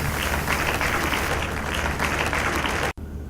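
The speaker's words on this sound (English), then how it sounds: "Please give him a round of applause, Your Excellency, sir." A crowd applauds the Governor of Lagos State at an auto care academy launch, a loud, dense wash of clapping that runs steadily before cutting off abruptly near the end.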